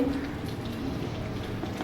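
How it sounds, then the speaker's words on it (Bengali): Steady rain falls outdoors as a dense, even hiss of drops, mid-loud and continuous, with no other distinct sounds. "মুষলধারে কখনো মুষলধারে কখনো ছোট ছোট ড্রপ এভাবেই সারাদিন বৃষ্টি হচ্ছে"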